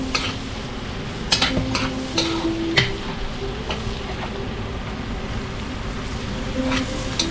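Garlic frying in hot oil in a pan, a steady close sizzle with a few sharp clinks and scrapes of a utensil against the cookware.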